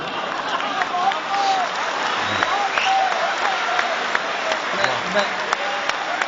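Steady audience applause at a poetry recital, dense and even across the whole stretch with a few voices and cheers mixed in.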